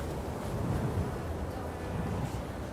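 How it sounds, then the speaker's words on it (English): Steady, rushing wind blows in the video game Space Engineers atop a mountain, a continuous low, breathy roar with no break. "there's wind in the air in Space Engineers"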